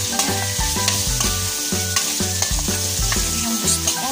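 Pork and string beans stir-fry in an oiled pan with onions and garlic, a constant sizzle broken by repeated rhythmic scraping and stirring strokes, close and fairly loud with no voices.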